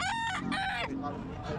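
A bantam rooster at a busy pet market gives one close, loud, broken crow, with market chatter faintly underneath.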